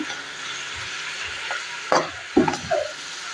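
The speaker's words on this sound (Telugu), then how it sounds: "ముందుగా కడిగి పెట్టుకున్న ఆకుకూరను మొత్తాన్ని ఇప్పుడు వేసుకోవాలండి" Washed amaranth greens tipped into a hot pan for a Telugu-style thotakura curry, giving a steady low sizzle with a few sharp stirring scrapes and clatters near the end.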